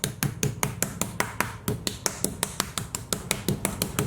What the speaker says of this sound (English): we just want to give it a very light pounding